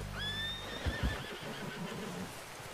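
A horse in Red Dead Redemption 2 gives a loud, close neigh that rises and trails off, followed by a couple of snorts and faint hoof movement.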